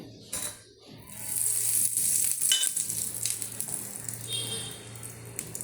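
Dosa batter sizzling on a hot pan, a bright continuous hiss with a few metallic clinks and scrapes of the utensil, close and fairly loud with no speech.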